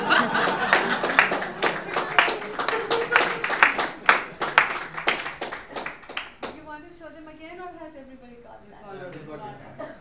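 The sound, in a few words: audience applause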